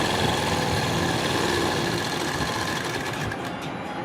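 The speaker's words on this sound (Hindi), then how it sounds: "फॉर्म को कपड़े पे रख के दोनों तरफ से सिल लेंगे।" Electric sewing machine running fast and steady as it stitches salwar fabric, a continuous close mechanical whir with no speech that eases slightly toward the end.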